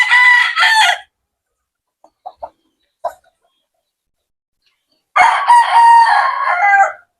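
A broodcock rooster, Kelso crossed with Johnnie Jumper, crows loudly and close twice, one full call at the start and another near the end, with a few short clucks in the quiet gap between.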